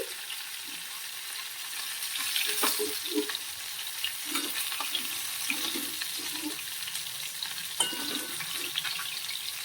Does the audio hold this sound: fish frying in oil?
yes